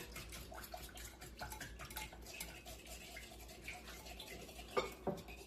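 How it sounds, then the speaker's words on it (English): Milk with black pepper is whisked in a bowl, giving quiet, busy scraping and light clinking throughout. Two sharper taps on the bowl ring out near the end, and nobody speaks. "Whisk that up."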